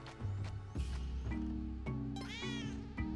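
Cat meowing in the video game Spelunky 2, a few short meows and a drawn-out rising yowl over bouncy game music and thumping effects.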